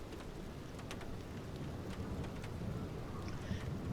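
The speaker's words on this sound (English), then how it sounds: "I love how you can hear the raindrops." Steady rain patters on a small aircraft after a stormy approach and landing at Liberia airport in Costa Rica, a continuous broadband wash with faint drop ticks over a low cabin rumble, no talking.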